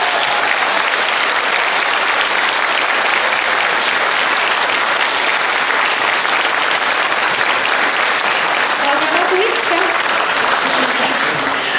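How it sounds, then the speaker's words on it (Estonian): Kindergarten children and their audience at a spring party in Paide burst into loud, continuous applause that stays dense and steady for over ten seconds, close and full, with some voices and cheering rising near the end. "tehke nüüd endale ise üks hästi suur aplaus"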